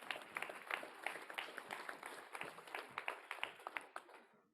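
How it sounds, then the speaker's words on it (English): Round of applause at a tribal assembly, a fairly small crowd clapping in a steady, moderately paced burst that tapers off near the end; heard at a moderate distance, quiet, with no talk over it. "so give them a good round of applause here."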